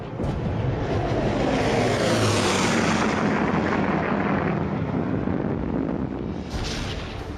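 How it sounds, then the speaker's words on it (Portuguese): Bomber aircraft roaring overhead during the April 25 bombing of the Berghof at Obersalzberg, a dense, loud, continuous rumble with a deep low-end throb that holds steady and then eases slightly near the end. "de que lado vieram os aviões?"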